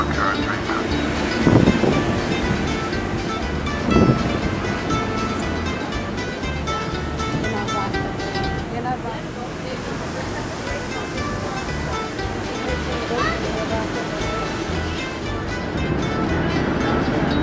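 Wind and surf rumble steadily around a ferry crossing to Belle Isle, a dense, continuous roar with a couple of louder gusts or thumps early on, while voices speak faintly beneath.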